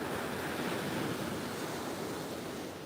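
Ocean waves wash onto a Florida beach near Tampa Bay as a steady, broadband roar of surf, close and continuous with slight wind buffeting, fading a little at the end, no voices.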